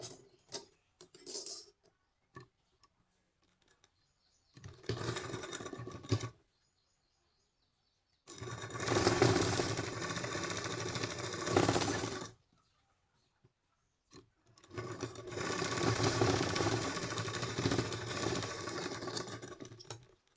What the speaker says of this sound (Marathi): शिलाई लॉक करून घ्यायची म्हणजे शिलाई उसवत नाही